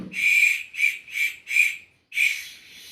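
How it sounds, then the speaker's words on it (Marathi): A child blows a plastic candy whistle in five shrill, short toots with brief gaps between them, close to the listener; the last toot trails off into a faint breathy tail. "होय रे, शिट्टी वाजवतोयस होय."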